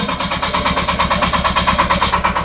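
Shifeng 240 tractor with updated design, a late-2023 unit, running its diesel engine at a steady idle, with a close, even rhythmic throb and a faint higher whine, no voices.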